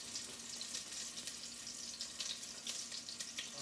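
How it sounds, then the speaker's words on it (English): Food sears in a hot pan, giving a steady close sizzling hiss with soft crackles throughout and no talk. "we're going to sear them in the pan just like that"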